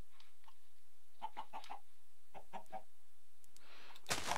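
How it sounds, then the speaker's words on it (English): A Minecraft chicken clucks in a few short bursts at a moderate distance, with a sudden loud noise closing the moment. "Hello, chicken."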